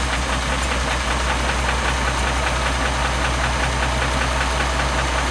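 An M756A2 pipeline truck's engine, just started, settles into a steady, loud, close idle with a rough, knocking mechanical rhythm that holds continuously throughout with no talk.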